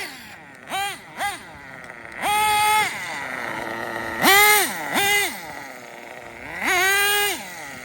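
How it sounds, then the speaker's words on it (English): An RB nitro engine in a radio-controlled drag car revs in several separate bursts, each a sharp rising high-pitched buzzing whine with short pauses between, fairly close and clear. "Sealed backplate, RB engine,"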